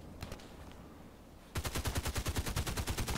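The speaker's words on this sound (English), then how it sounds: "Where is he shooting at?" Video game gunfire in an online shooter: a couple of faint distant shots, then a sustained rapid burst of automatic machine-gun fire, loud and rhythmic for the last half of the clip.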